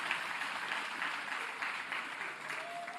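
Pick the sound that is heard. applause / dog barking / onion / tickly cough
applause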